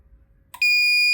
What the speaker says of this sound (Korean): 이제 부저가 울립니다.